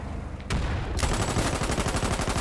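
An anti-tank pillbox opens fire in the war video game Foxhole, a quiet start giving way to loud, rapid repeated gunshots that hammer on in a steady rhythmic burst.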